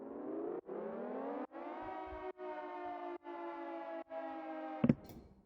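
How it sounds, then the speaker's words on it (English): A laser siren synth from a tearout bass music drop: loud, sustained, buzzy tones that are sidechained to the kick, so the sound cuts out in rhythmic gaps about every second, then ends in a sharp hit. "and just a laser siren in the back"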